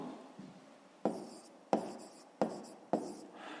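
Handwriting on paper during a fifth-grade math exercise, four or five short distinct pen strokes tapping and scratching at a steady pace, close and quiet against a faint background hum.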